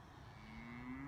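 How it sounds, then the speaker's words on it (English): A cow lowing on a cattle farm, one drawn-out moo that rises slightly in pitch, fairly close and clear against a quiet outdoor background. "So yeah, cattle are comfortable, happy."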